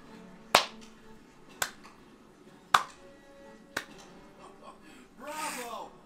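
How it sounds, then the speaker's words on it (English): Slow ironic clapping from a character in the Guardians of the Galaxy PS5 game: four sharp, widely spaced claps ring out one by one, followed by a short stretch of voiced sound near the end. "I'm clapping ironically."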